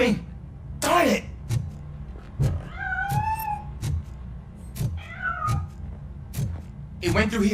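A cat meows repeatedly in the RoboCop: Rogue City video game, several rising and falling mews close by, scattered between sharp clicks and taps over a low background rumble.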